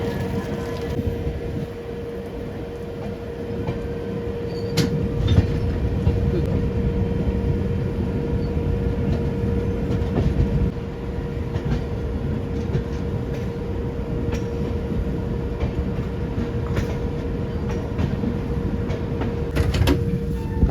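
Inside the Kanchankanya Express at Siliguri after its locomotive is changed and coupled: a continuous low rumble with a steady hum, broken by scattered clanks and knocks, fairly loud throughout.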